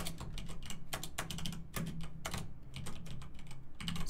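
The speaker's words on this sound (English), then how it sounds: "So typing is gonna be a little bit slow." Someone types on a computer keyboard in a quiet room, a steady close patter of key clicks with uneven rhythm and no voices.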